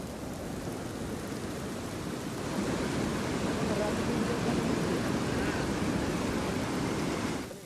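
Heavy rain pours down in Pune, a dense, even hiss that holds steady throughout and swells slightly in the middle before cutting off.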